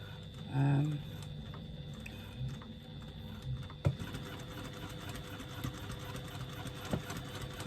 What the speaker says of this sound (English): I'm just going to try and stitch right over those stitches that I've already got in there